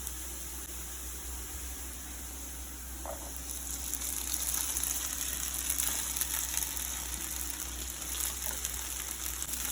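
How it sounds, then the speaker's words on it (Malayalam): Sabudana (sago pearls) dropped into a hot pan for sabudana khichdi, giving a soft steady sizzle and hiss of frying that swells slightly louder after a few seconds and continues evenly. "ഇനി നമുക്ക് ഇതിലേക്ക് നമ്മൾ എടുത്ത് വെച്ചിരിക്കുന്ന സാബുദാന ഇട്ട് കൊടുക്കാം."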